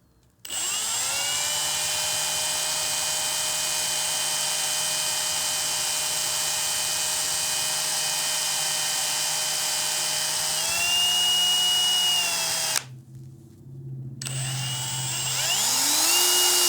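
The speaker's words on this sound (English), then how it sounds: "we can go ahead and hit it with a quick polish and bring it back to like new" A small rotary tool whines at a steady high pitch while polishing the steel shock shaft of an RC car, dipping briefly as the load changes near the end, loud and close with no talk.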